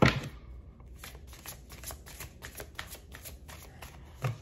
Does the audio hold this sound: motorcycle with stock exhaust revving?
no